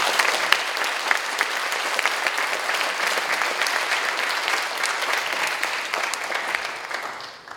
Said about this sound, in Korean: 큰 박수로 시장님을 모시겠습니다